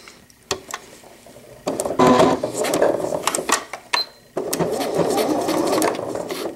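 A sewing machine back stitching an all-in-one cloth diaper, running in a few short close bursts separated by pauses, with a voice talking between the runs.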